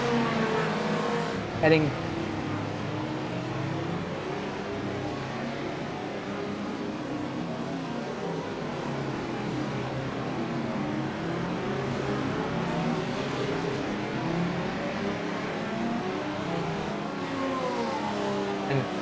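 Race car engines drone steadily in iRacing at Sebring, a Porsche among the pack, a continuous sustained roar with revving swells, a commentator talking over it throughout.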